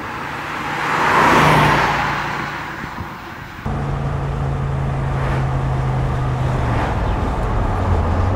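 A 2003 BMW Z8 Roadster with its heavy front engine driving along, engine note swelling then settling into a steady cruising hum with road and wind noise.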